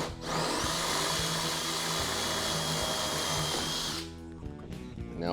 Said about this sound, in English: We'll drill it out.